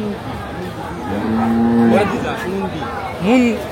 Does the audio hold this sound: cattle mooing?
yes